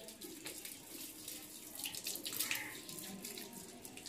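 Water runs steadily from a tap or hose for watering plants, a continuous splashing hiss close by throughout with no talk.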